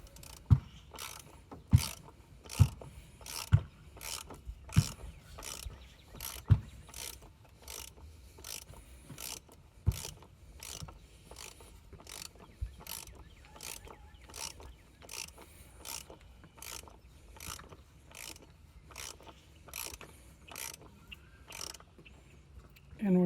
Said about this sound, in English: I'm gonna use my ratchet to finish it off.